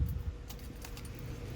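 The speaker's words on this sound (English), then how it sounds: "pull the keys out so the buzzer won't be noisy" Keys jangle briefly and close by as they are pulled from the ignition of a 1971 Camaro.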